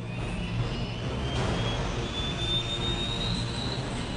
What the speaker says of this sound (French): Il est 22 h, l'hélicoptère décolle.